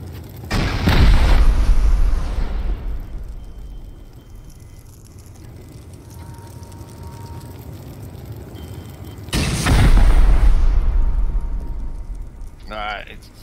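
Rocket blasts hitting base walls in the survival game Rust, two heavy booming explosions several seconds apart, each with a long rumbling tail, and a low ambient hum between them.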